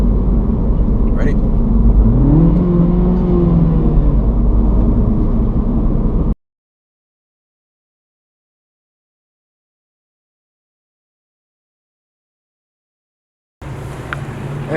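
Car engine revved hard with the clutch in while driving through mountains, a loud steady roar with a rising then falling pitch sweep, which cuts off abruptly into several seconds of silence before the engine noise resumes.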